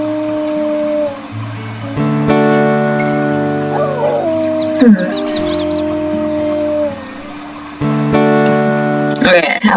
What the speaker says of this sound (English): just one more howl, and then it should be good